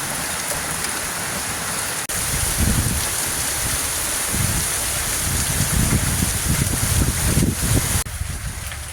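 Heavy rain mixed with hail pounds steadily on a camper van roof during a tornado-warned storm in Struthers, Ohio, a dense continuous hiss with thicker drumming bursts and no voices.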